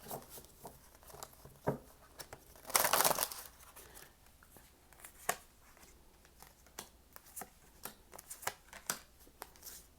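Tarot cards shuffled by hand in a quiet room, with soft papery riffles and taps scattered throughout and one louder, longer burst of shuffling near the start.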